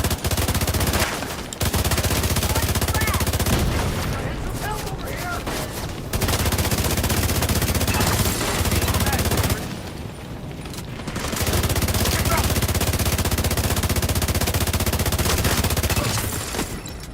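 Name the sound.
gunfire from the video game The Division 2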